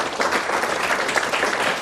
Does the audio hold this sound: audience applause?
yes